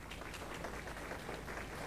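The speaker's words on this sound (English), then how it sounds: "please give Billie a round of applause." Audience applause at an eighth-grade recognition and awards ceremony, welcoming a student reader; a steady, faint wash of clapping from a crowd, continuous throughout with no talk.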